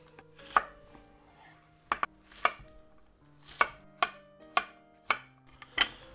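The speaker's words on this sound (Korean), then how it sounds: "양파는 그냥 사각으로, 요것도 한 1cm 정도 잘라 줄게요" A knife chops an onion into roughly 1 cm squares on a board, eight or so crisp, evenly spaced knocks ringing out alone, close and clear.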